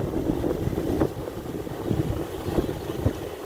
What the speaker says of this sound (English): the water coming up between the rocks